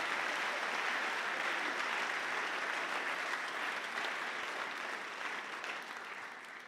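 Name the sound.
audience applause for a doctor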